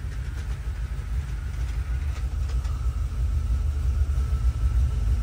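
A GM Performance crate 350 V8 idles steadily after a cold start with an overly rich carburetor, a continuous deep low rumble that holds even and loud throughout, with no voices.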